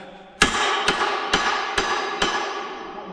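Five evenly spaced, ringing metal hammer blows strike a rivet on a whisky barrel's steel hoop, each sharp impact leaving a bright, decaying ring, close and loud with no talk.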